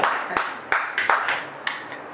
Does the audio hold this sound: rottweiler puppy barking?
no